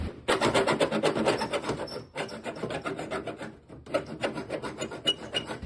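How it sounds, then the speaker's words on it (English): A hacksaw cuts through a metal rib inside a van, close and fairly loud, with rapid back-and-forth rasping strokes broken by a couple of brief pauses. "I'm just going to use a hacksaw to get through that last little bit."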